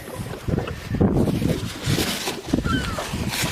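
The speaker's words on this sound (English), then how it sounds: "Pretty windy." Gusty wind buffets the microphone outdoors near islands on open water, a steady rushing roar with stronger bursts.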